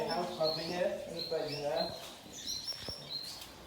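Small birds chirping inside a seaside butterfly house in Skegness, soft high tweets scattered over a few seconds, faint and partly under nearby talk.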